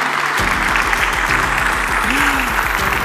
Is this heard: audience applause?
yes